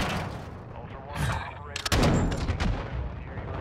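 Gunfire in the DMZ video game, a brief burst of rapid shots and heavy booming reports, under and alongside game audio with some voice.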